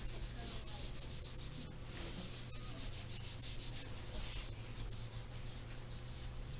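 A palm rubs paper in circles over an inked linoleum block for an owl print, giving a steady close, soft hiss of rubbing that continues without pause.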